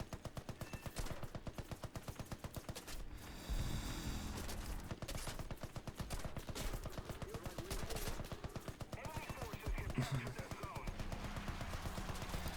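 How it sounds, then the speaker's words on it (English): A machine gun fires at Zeppelins in a World War I air battle in War Thunder: long, rapid, evenly spaced bursts hammer on continuously and loudly over a low droning background. "I dumped 500 bullets into two enemy Zeppelins until they're down."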